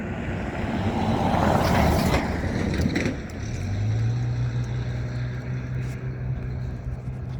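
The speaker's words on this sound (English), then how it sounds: "Eastbound train, Hagerstown, Indiana." An eastbound train passes in Hagerstown, Indiana, a broad loud rumble and rush that swells then eases, followed by a steady low drone as the cars roll by.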